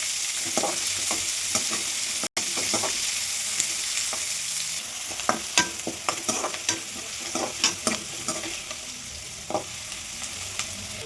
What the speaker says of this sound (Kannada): ಆಮೇಲೆ ಈರುಳ್ಳಿ, ಮೆಣಸಿನಕಾಯಿ, ಕರಿಬೇವು ಸೊಪ್ಪು ಬ್ರೌನ್ ಕಲರ್ ಬರೋದಂತ ಸ್ವಲ್ಪ ಫ್ರೈ ಮಾಡ್ತೀನಿ